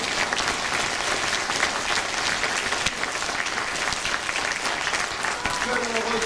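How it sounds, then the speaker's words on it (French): Sustained audience applause at a vocal group concert during a November festival in Levroux, France, steady dense clapping throughout with a voice starting to speak over it toward the end. "on peut encore applaudir une fois"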